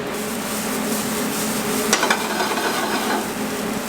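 Korean kimchi fried rice being stir-fried in a pan, a steady close sizzle with scraping and stirring throughout, one brief sharper clatter midway.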